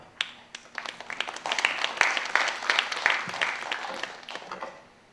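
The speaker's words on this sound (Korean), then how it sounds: "환영의 박수 부탁드립니다." Welcoming applause from a seminar audience at a Korean agricultural policy meeting, a steady crowd of hands clapping that swells within a second, holds for several seconds, then tapers off into quiet.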